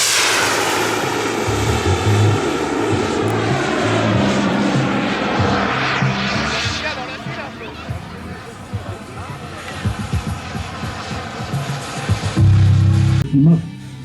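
A kerosene-fuelled model jet with a 24 kg thrust turbine takes off at an airshow, its loud whining roar sweeping past and fading into the distance while a voice talks over it.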